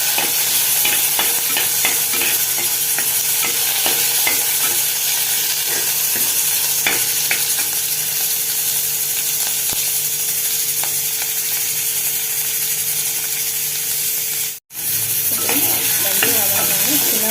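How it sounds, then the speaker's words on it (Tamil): Fenugreek seeds frying in oil in a clay pot for a spicy tamarind curry, a loud continuous sizzle and crackle that runs without pause, broken once by a brief dropout near the end. "வெந்தயம் நல்லா பொரியட்டும்"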